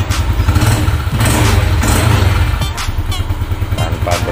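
Yamaha Jupiter Z1 motorcycle engine runs loudly up close, a steady low throb with a few throttle blips rising and falling, previously prone to sputtering under throttle; faint voice underneath.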